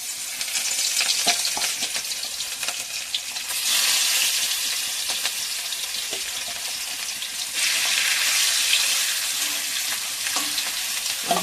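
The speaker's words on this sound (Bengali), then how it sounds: "মাছগুলো এবার ভেজে নেব।" Fish frying in oil in a wok, a steady crackling sizzle running throughout at close range, swelling louder in two stretches, with occasional light clinks and no voices.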